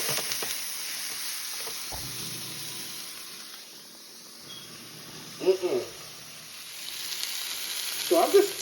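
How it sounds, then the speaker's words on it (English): Garlic, onions, peppers and mushrooms sauté in a pan for a steak sandwich, a soft, steady sizzle with a few brief louder crackles and stirring bursts. "I've got my vegetables simmering here in my pan."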